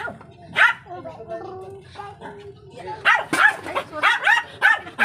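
Several sharp dog barks and yips ring out, close by, mixed with people talking in the background, with a burst of rapid barking near the end.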